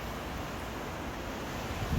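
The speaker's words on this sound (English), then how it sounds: "this is a glacial waterfall" Glacial waterfall at the Garibaldi Glacier in the Chilean fjords, heard from a cruise ship as a steady, broad rushing roar mixed with wind, unbroken for the whole stretch and swelling slightly at the end.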